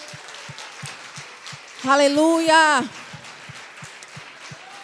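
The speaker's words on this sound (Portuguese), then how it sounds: "aplauda mais forte ao Senhor" A church congregation applauds in a steady, rain-like patter with regular rhythmic beats running underneath, and a loud voice calls out over it briefly in the middle.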